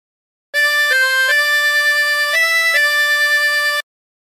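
A tremolo harmonica plays a short sustained phrase of several held, wavering notes with shifting pitch, loud and close, alone and with clean starts and stops.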